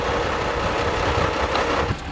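A Unimog truck's engine idles steadily in the Sahara, a continuous low rumble with a slight rough knock, close and unchanging throughout with no talk.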